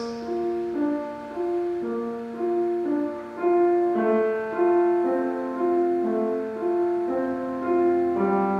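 Piano left hand breaking chords apart into steady sixteenth notes in a Mozart piece, a clear, flowing accompaniment pattern heard alone, moderately loud, with no talking.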